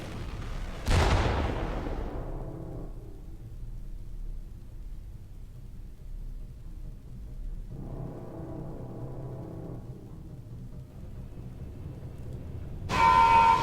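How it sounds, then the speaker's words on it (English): Massive explosion in a city's central section in Freespace 2, a sudden loud blast that rolls into a long decaying rumble, then a second low swelling roar, ending with a sharp burst and tone. "There was a massive explosion inside the city's central section."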